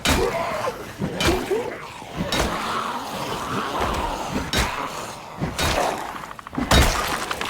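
Bone fracturing amid combat in the Project Zomboid video game: repeated heavy cracking, smashing impacts in irregular bursts over a dense, noisy background.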